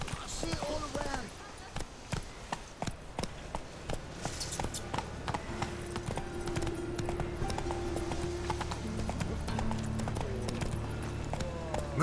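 Hoofbeats of Roach, a grey horse in The Witcher 3: Wild Hunt, clopping in a quick repeated rhythm at close range under ambient game music, with someone talking over them.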